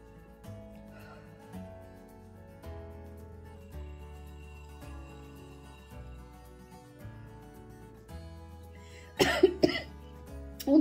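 A few sudden coughs near the end, brought on by inhaling essential oil from a bowl held to the nose, close and loud over soft background music.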